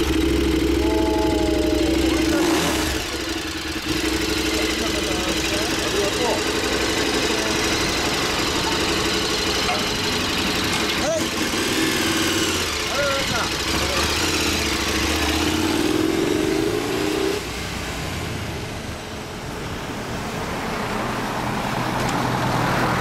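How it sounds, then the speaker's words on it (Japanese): A 2015 KTM 1190 Adventure motorcycle idles steadily nearby in a low, even rumble, with people talking intermittently and faint traffic noise around it. "KTM のアドベンチャー1190です。"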